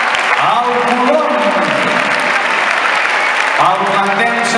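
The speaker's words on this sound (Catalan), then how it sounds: "L'aplaudiment per aquesta entrada" An audience applauds in the Palau d'Esports sports hall during the Granollers Festa Major ceremony. Dense clapping fills the hall throughout, while an announcer talks over it.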